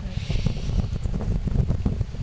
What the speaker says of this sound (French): Oh là là, le vent, le vent.